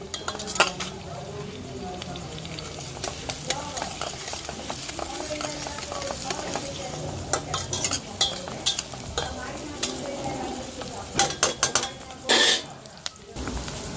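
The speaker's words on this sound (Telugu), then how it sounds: "ఉల్లిపాయ పచ్చిమిర్చి బాగా వేగేంత వరకు అయితే ఫ్రై చేసేసుకున్నాం" Onions and green chillies frying in a pan, a soft continuous sizzle under repeated clinking and scraping of a metal spoon against the pan, with a louder burst of scraping late on, close and without talk.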